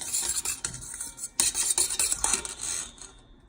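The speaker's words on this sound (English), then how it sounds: "Whisk it up." Whisk scraping and tapping rapidly in a bowl of salad dressing for salpicón de res, a busy, bright rasping rhythm heard up close with brief pauses and no talking.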